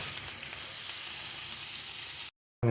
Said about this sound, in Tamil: பேனில் கொஞ்சம் எண்ணெய் ஊற்றிருக்கேன் இப்போ நான் வந்து பொடி பொடியாக கட் பண்ணி வச்சுருந்த பூண்டை வந்து ஆட் பண்ணி நல்லா வதக்கிக்கிறேன்